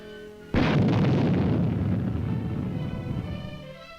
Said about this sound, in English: Little John all-weather rocket.